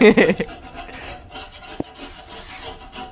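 Scraping boiled saltpeter mixture off the sides of a pot, rough close rasping strokes at the start, then softer intermittent scraping with one sharp knock midway.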